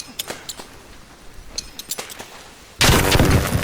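Grenade blast in a video game: a few faint sharp clicks and pops, then a sudden loud, broad burst of explosion that holds to the end.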